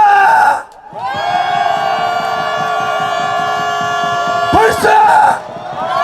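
A rally crowd protesting alleged election fraud lets out a long sustained roar, joined by loud horns or sirens blaring steadily through it, with brief shouts at the start and end.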